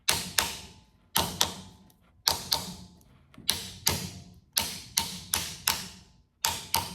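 Metal wire struck against a form to bend it round into a circle: about fifteen sharp, close taps in pairs and small clusters, each ringing briefly before the next. No voices.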